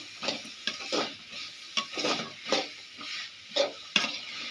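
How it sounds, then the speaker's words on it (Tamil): Bitter gourd being sautéed in a pan, with rhythmic stirring strokes every half second or so scraping through a steady close sizzle, alone without talk. "பாவக்காய் நல்லா வதக்கணும்"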